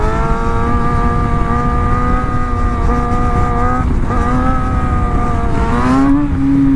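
A loud motorcycle engine drones at high revs during a wheelie, pitch dipping and climbing again, with a harsh mechanical roar throughout and no talking.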